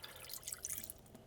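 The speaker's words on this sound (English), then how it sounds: "I'm gonna add just enough water so that it basically comes right to the bottom of this metal" Water being poured into an Instant Pot, a soft, close trickle and splashing for just over a second.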